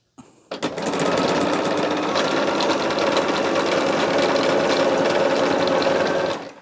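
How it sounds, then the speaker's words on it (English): A sewing machine runs steadily for several seconds, stitching one edge of two fabric scrap squares placed right sides together for a pocket, a close, even mechanical whirr that starts and stops cleanly. "we're just going to sew down one edge"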